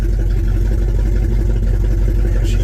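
An old Chevy engine idles steadily at close range, a continuous low rumble that holds an even rhythm throughout with no voices over it.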